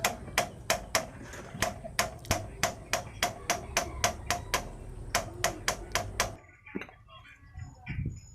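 A hammer drives an Allen wrench bit into a stripped Allen head bolt, with about twenty sharp, evenly spaced metallic strikes in quick rhythm that stop abruptly, followed by quieter shuffling.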